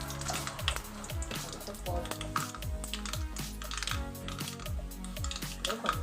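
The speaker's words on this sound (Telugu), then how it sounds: "ఆయిల్ కాగింది కదండి, పోపులు వేసుకున్నాము." Tempering spices crackling and sizzling in hot oil in a kadai while bottle gourd curry is being made, steady close spitting and popping with small clinks, under soft background noise.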